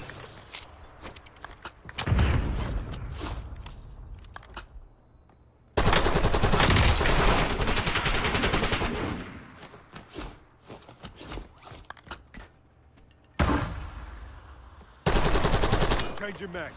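Gunfire in the Warzone video game, several loud bursts of rapid automatic shots separated by quieter gaps, with a player talking now and then between them.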